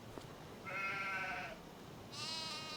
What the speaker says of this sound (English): No, it's a goat.